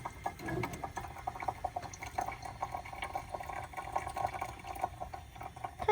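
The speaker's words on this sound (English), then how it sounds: "So you pour in a circular motion." Hot water poured slowly in a circular motion over ground coffee beans, a steady close trickle and splash of liquid running continuously with no talking.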